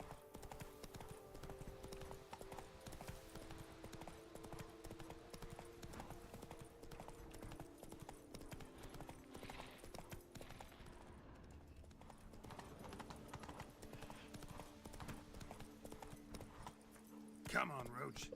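Roach, the horse in Witcher 3: Blood and Wine, trots in steady clip-clopping hoofbeats that carry through the whole stretch, set against game music and ambience, with a brief louder swell near the end.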